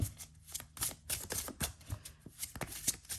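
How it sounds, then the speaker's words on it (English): A deck of tarot cards being shuffled by hand, a quick run of crisp riffling and flicking bursts, close and fairly quiet, with no talking over it. "let me just have a little play here and not make a mess of my shuffling"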